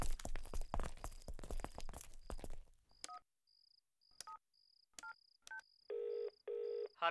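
A telephone being dialed in a film scene: a rapid run of beeping touch-tone digits over rustling handling noise, then a pause and two loud ringing tones, fairly close and with no voices.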